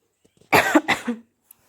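A woman coughs twice in quick succession, close and dry, in a quiet kitchen, followed by a faint click.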